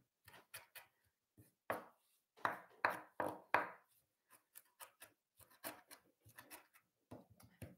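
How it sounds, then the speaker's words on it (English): A knife roughly chops fresh herbs with mint on a chopping board, giving irregular bursts of crisp taps and thuds, close and clear, with no voices. "So for time, I'm just going to roughly chop."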